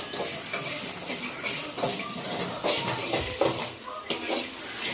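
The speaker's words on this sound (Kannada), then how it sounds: "ಮೆಣಸಿನ್ಕಾಯಿನ ಹುರ್ಕೋತಾ ಇದ್ದಾಳೆ. ಮೆಣಸಿನ್ಕಾಯಿ ಹುರ್ಲಿಕ್ಕಿದ್ದಾಳೆ. ಈರುಳ್ಳಿ ಮತ್ತು ಬೆಳ್ಳುಳ್ಳಿ ಹುರ್ಕೊತಾ ಇದ್ದಾಳೆ" Chillies, onion and garlic frying in a pan, with a steady close sizzle broken by repeated scraping and stirring strokes and faint clinks of utensils against the pan, no talk.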